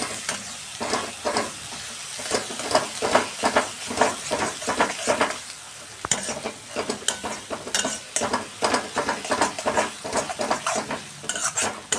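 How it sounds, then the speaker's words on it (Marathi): Ground masala paste sautés in oil in a kadhai for misal, with a steady sizzle and repeated scraping and stirring strokes of a spatula against the metal pan, no talk. "कढईमध्ये मी मसाला घातलेला आहे, तो पण असं आपण तेलामध्ये परतवून घेणार आहे."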